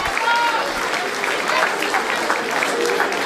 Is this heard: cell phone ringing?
no